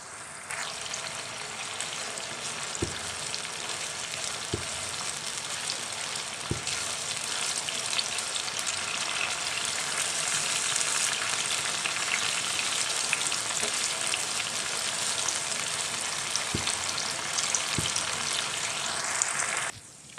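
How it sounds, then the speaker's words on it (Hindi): Steady, bright sizzling of chicken and garlic frying in a hot pan, continuous throughout, with a few sharp clicks of a utensil stirring. "चिकन और लहसुन को अच्छी तरह से फ्राई कर लेंगे।"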